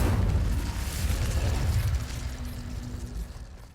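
A fire spell cast in the Hogwarts Legacy video game bursts out as a loud, booming whoosh with deep rumble, holding strong before slowly thinning over a few seconds.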